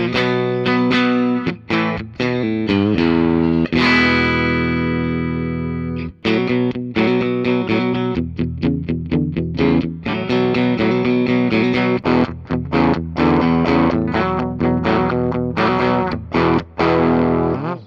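A loud distorted electric guitar, a Gibson Les Paul Studio, plays sustained chords and riffs, thick and gritty, with no voices.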